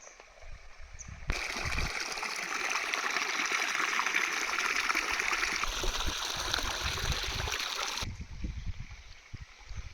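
Clear water flowing steadily in a small river between hills, a continuous close rushing and trickling that swells louder through the middle and eases slightly at the end, with no talk.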